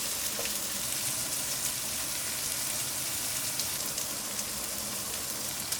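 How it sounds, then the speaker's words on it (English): Kobe beef strips frying in a pot with chopped ginger and garlic, a steady crackling sizzle with fine popping, even and continuous at close range. "Then add the Kobe beef strips to the pot and fry for 3 to 4"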